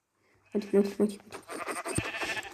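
Several short sheep bleats from Minecraft ring out close and clear, then give way to busy talk and clatter.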